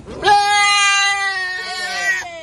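A live goat bought as a bride-price item for a Nigerian wedding bleats once, a long, loud, wavering cry close by that lasts about two seconds and tails off with a second shorter rise.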